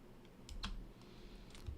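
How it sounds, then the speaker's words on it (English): Computer keyboard typing during a live card-game stream, a few soft keystroke clicks spread across a quiet background hum, fairly faint and close. "Is my keyboard loud?"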